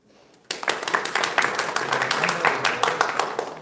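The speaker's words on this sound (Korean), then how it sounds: "박수 한번 크게 주십시오" Applause from an audience at a university software program event with a prize drawing starts abruptly after a brief quiet moment, then continues as loud, dense clapping from many hands until the end.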